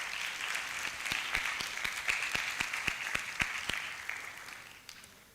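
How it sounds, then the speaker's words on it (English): An audience at an education event applauds a presentation: a steady, dense round of clapping with sharp individual claps that holds strong, then gradually fades away toward the end. "applause for this presentation"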